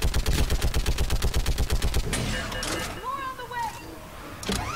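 Rapid automatic gunfire rattles in a fast, even burst in a Mass Effect 3 battle, then gives way to scattered impacts and game effects, with a voice talking throughout.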